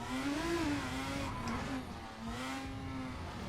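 A race car engine revs loudly and steadily in Assetto Corsa, its pitch rising, dipping and climbing again in a continuous close drone that lasts the whole stretch.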